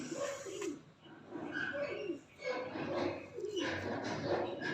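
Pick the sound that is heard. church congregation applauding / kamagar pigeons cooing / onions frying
kamagar pigeons cooing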